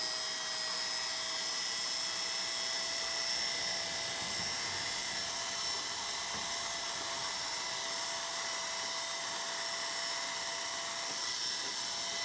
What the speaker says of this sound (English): And literally I can take my trimmer and just go straight down like this as well.